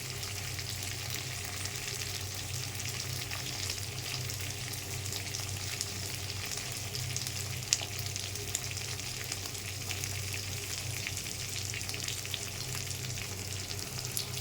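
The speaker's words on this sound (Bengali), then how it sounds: "এখন পেঁয়াজ রসুন আদা দিয়ে ভেজে নিতে হবে, আর মধ্যে কাঁচামরিচ ভেঙে দেব।" A constant, even sizzle of onion, garlic and ginger frying in a pan, close by and moderately quiet, with no talking.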